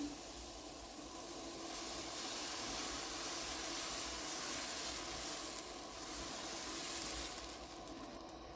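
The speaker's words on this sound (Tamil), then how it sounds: "இப்போ பாருங்கள் பேன் சூடேறிட்டுது. தோசை மாவை ஊற்றுறேன்." Dosa batter sizzles steadily on a hot nonstick pan, a soft, even hiss and crackle that carries on without pause.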